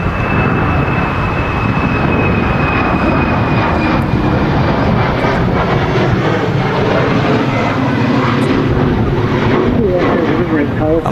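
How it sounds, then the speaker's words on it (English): An Air France airliner rolling down the runway for takeoff at a very windy Manchester Airport, a loud, steady engine roar with a rising whine, mixed with wind buffeting and someone talking over it. "Rolling down the runway at the moment is the Air France hop off to"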